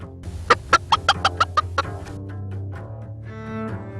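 Several chickens cluck in a quick run of about eight sharp, loud calls, then fall into softer, lower murmuring, with no talk over them.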